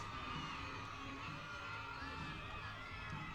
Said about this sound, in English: The crowd has gone berserk.